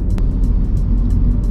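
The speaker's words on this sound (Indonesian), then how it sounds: "ada aura dari raungan mesin 3 silindernya yang nyaman di telinga" A 2015 Mini Cooper's three-cylinder engine, a loud, steady low rumble close by, with faint rhythmic pulses over the top.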